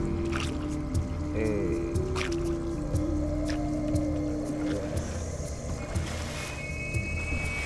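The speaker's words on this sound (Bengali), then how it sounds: "দুখানা বড় বড় স্পিড বোট গেল, বড় বড় ঢেউ দিয়ে চলে গেল" Boats out on the Maithon Dam lake, with a steady engine drone, passing motor whines and water splashing against the boat as waves come in, heard close and continuous.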